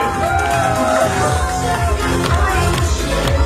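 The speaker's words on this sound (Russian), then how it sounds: "Аплодисменты." A festive crowd at a New Year corporate party applauds and cheers loudly and continuously, with whoops and hubbub under music-like tones.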